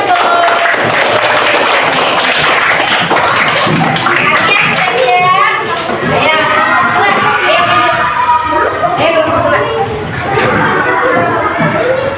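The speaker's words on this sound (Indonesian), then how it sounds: "Kasih tepuk tangan kelompok 1." A classroom group of students claps and cheers for the first team, a loud, busy burst of applause mixed with children's shouts and chatter that carries on throughout.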